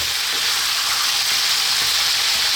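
Lamb browns in a hot pan for a Greek stew, a loud, steady sizzle of frying meat close up, with faint stirring taps under the constant hiss.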